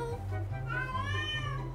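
A cat meows repeatedly in a drawn-out, rising and falling call, close by, over a low steady background hum.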